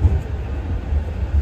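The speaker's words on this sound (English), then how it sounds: "Here's the tram now." A low rumbling tram arrives at a stop nearby in Manchester, its deep engine hum and rail noise pulsing steadily without any talking.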